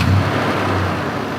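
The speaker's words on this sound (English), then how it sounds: "We'll start it up." A 1996 Toyota truck with 236,000 miles runs with a steady, fairly loud low engine rumble and hiss, close by, with no talking over it.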